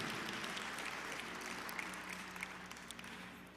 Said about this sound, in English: Give Brother Carlos another great round of applause, will you, everybody?